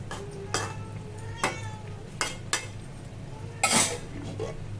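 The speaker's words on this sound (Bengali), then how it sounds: "এখন আবারও ঢাকা দিয়ে দিলাম।" Several sharp metallic clanks and knocks of a lid being set on a cooking pot, spaced irregularly over a low kitchen hum, no talking.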